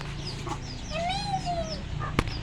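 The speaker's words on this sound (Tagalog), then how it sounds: "Ang cute nung sisiw. Nasa pakpak ng nanay niya." A hen sheltering a chick under her wing gives a drawn-out clucking call with a few shorter clucks around it, close and fairly quiet, with no voices.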